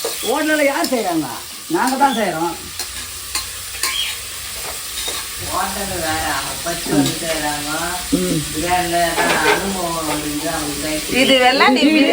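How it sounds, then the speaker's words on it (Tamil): Onions and ingredients for biryani sautéing in a pan: a continuous loud sizzle of frying with scraping stirs throughout, while people talk over it at close range. "நல்லா வதக்கு நல்லா வதங்கலாம்"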